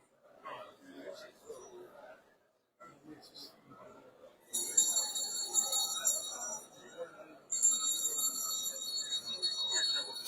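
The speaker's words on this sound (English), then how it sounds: "So the bell has gone." A bell rings in the UN General Assembly voting hall, a bright, sustained electric ring that starts partway through, stops briefly, then resumes, after quiet murmured talk in the room.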